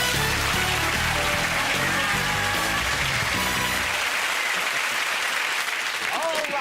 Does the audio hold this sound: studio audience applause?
yes